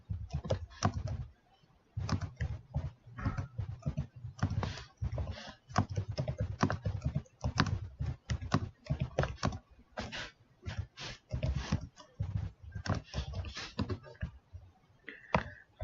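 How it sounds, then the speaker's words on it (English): Data being typed on a computer keyboard into a spreadsheet, with irregular clusters of quick, close key clicks and short pauses throughout. "I'm going to type in the data."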